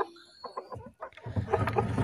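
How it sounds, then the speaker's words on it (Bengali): Free-range desi hens cluck in short, irregular bursts close by while being let out of their coop, with some rustling and scuffling noise building toward the end. "তো আমি মুরগিগুলো ছাড়ছি"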